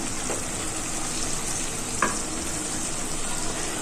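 Keema and potato curry frying in oil as it browns, a steady dense sizzle with a couple of soft stirring scrapes, close and even throughout.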